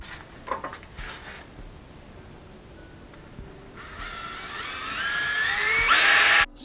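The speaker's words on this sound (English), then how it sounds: "Now, drill a hole right through the center of the CD case." A power drill bores through a plastic CD case, a high whining grind that builds in the second half and cuts off sharply at the end, following a quiet start with a few small clicks.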